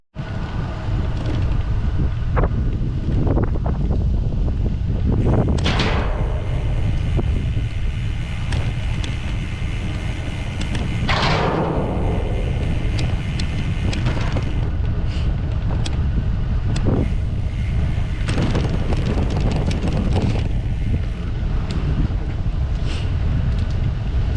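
Steady wind buffets the microphone while biking the William C. Munger Trail near Duluth, a continuous loud roar with gusty swells throughout and no talking.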